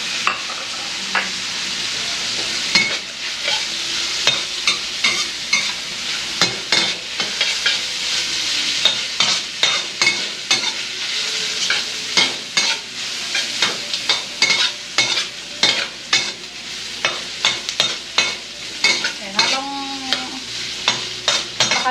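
Meat stir-fried with garlic, onion and carrots for napa cabbage stew sizzles steadily up close, with frequent rhythmic scraping and clattering stirs throughout and no talk.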